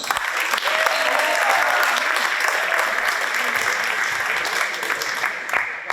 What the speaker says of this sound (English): Give a round of applause, guys.